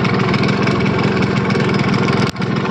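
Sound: Yamaha RX100 motorcycle engine running after starting

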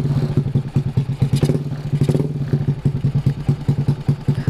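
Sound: Honda Beat motorcycle engine revving with PE24 carburetor

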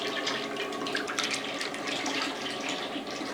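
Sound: pouring sesame oil into a pot for pickle

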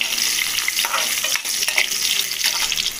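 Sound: sliced onions frying with cumin in a pan

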